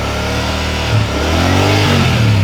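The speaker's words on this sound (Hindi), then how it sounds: "लेकिन अगर बहुत ज़्यादा एक्सेलरेट करूँगा" A Royal Enfield Meteor-series motorcycle engine revs hard, a close, loud, steady drone whose pitch climbs as the throttle opens partway through. No voices are heard over it.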